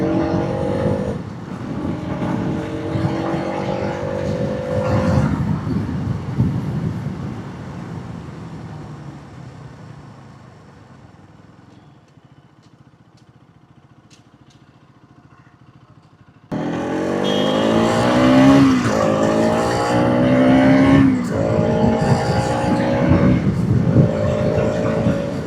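A motorcycle riding along a road, picked up by a DJI Mic Mini: a steady, loud engine drone with rising and falling revs eases into a quieter stretch midway, then surges back loud and close.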